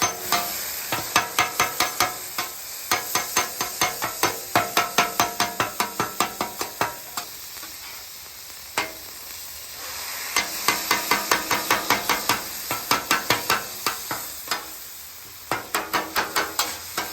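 A metal spatula chops frozen cheesesteak meat on a hot griddle in rapid rhythmic runs of sharp clacks over a constant sizzle, with short pauses between each flurry.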